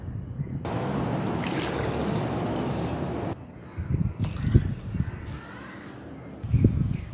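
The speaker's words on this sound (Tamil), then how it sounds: "ஸோ இதுக்கு 2 மடங்கு தண்ணீர் விட போகிறோம் நம்ம இதில்." Water poured into a pressure cooker while preparing tapioca papad, a steady splashing pour for about three seconds that then gives way to lighter kitchen clatter and handling sounds.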